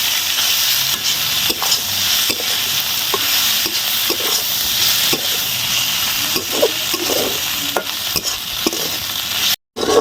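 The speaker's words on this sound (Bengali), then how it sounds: "এটা ভালো করে ভেজে নেব" Fish frying with onions in a pan for a fish omelette, a loud continuous sizzle broken by repeated scraping stirs of a spatula, close up, with no talking.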